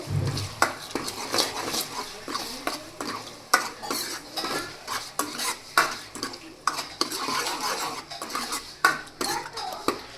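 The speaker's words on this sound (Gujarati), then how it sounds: "હવે આ બધા મસાલાને આપણે સરસ રીતે મિક્સ કરી લેશું" Spice masala is mixed into a green chickpea curry in a pan, with rhythmic, repeated scraping and tapping of a spoon against the pan along with a light sizzle, loud and close, continuous with no talking.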